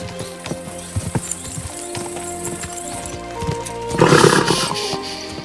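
Hooves of a horse galloping in Kingdom Come: Deliverance 2 thud in a steady clip-clop rhythm over game ambience, with a louder rushing swell near the end.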